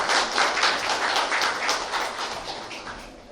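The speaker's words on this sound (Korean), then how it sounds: "여러분 박수 부탁드리겠습니다" A Korean science forum audience applauds as four panelists take the stage, a steady, dense clapping that holds strong before gradually easing off.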